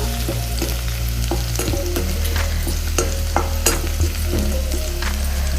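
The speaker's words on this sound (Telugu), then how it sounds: "పచ్చిమిర్చి కొంచెం వేగాక ఉల్లిగడ్డ కూడా వేస్తున్నాం" Green chilies and finely chopped onions fry in a pan for restaurant-style veg manchurian, a loud continuous sizzle broken by sharp clicks and scrapes of stirring, with a low steady hum underneath and no talking.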